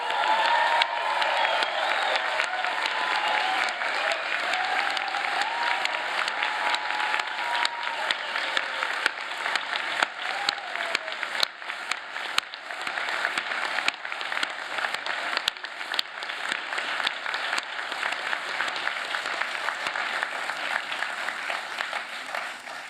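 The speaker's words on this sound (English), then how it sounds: "Can you please join me in an enthusiastic and thunderous applause" A large graduation-ceremony audience applauds the new science graduates, a dense, steady wash of clapping with scattered whoops and cheers that holds at full strength for over twenty seconds.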